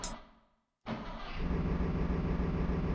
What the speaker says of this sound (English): Car engine.